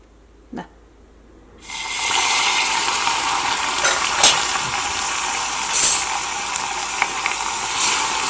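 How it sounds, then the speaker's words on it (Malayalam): Hot water is poured into a hot pan, setting off a sudden loud sizzle that continues steadily while a spoon stirs with light scraping and clinks, preceded by a single brief tap, close and without talk. "ഇതിലേക്ക് ഞാനിവിടെ 1 ടേബിൾ സ്പൂൺ നല്ല ചൂടുള്ള വെള്ളം കൂടി ഇതിലേക്ക് ചേർക്കുന്നുണ്ട്."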